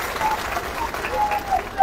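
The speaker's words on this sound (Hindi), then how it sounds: "ताली हल्की बजा रहे हो" An audience at a meeting of a Haryana municipal workers' union claps lightly and unevenly, a patchy crowd applause that rises and dips in small bursts while scattered voices murmur through it.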